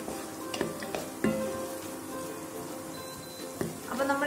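Sliced onions sizzle gently in a pan while being cooked for vegetable biryani, with a soft, continuous frying crackle. Stirring clinks and scrapes punctuate it several times, fairly near and quiet.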